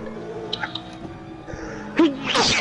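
A single sharp sneeze bursts out near the end, preceded by quiet mouth noises and breathing over a low steady hum from a racing game.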